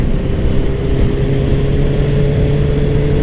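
A motorcycle engine with a faulty sensor idles with a steady, loud hum and a slight rise in revs, running continuously without any audible cutout.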